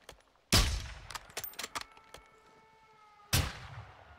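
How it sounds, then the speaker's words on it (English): In a Call of Duty: Modern Warfare II campaign mission, two sharp, loud gunshots ring out a few seconds apart, with a scattered burst of smaller distant shots and clatter in between. "You heard the shot."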